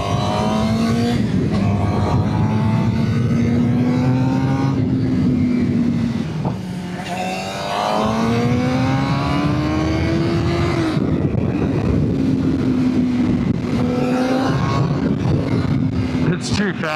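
A Suzuki GSX-R 600 sportbike is ridden hard, its engine whine climbing repeatedly through the gears with brief drops at each shift, recorded close on board under heavy wind roar.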